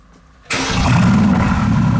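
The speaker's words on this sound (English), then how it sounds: "we're gonna have the start of the AMG GT S, again with a VOS exhaust system" Mercedes-AMG GT S twin-turbo V8 with an aftermarket VOS exhaust firing up: a sudden loud catch after a brief quiet, then a steady, deep, rumbling idle close by with no talk.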